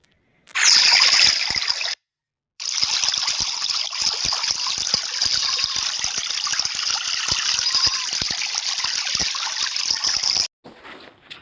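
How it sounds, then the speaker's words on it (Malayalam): Water drawn for bathing gushes and splashes loudly as it is poured out, stopping briefly, then a long steady pour follows before cutting off abruptly. "എനിക്ക് വെള്ളം കോരി വെച്ച് തരാം ഞാൻ കുളിക്കാൻ വേണ്ടിയിട്ട്"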